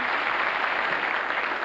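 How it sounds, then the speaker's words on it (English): A studio audience on the 1999 British TV quiz show Mind the Gap claps in steady, dense, fairly loud applause from start to finish with no voices over it. "Give her a round of applause."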